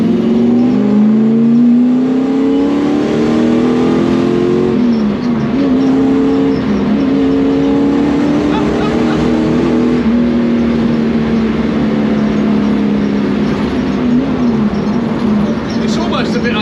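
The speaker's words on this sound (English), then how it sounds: "It's almost a bit unusual having that noise coming from a Sierra." A Lexus LS 400 V8 swapped into a Mk2 Ford Sierra three-door rumbles loudly and steadily up close, its revs rising and easing in long smooth sweeps with a deep, continuous drone throughout.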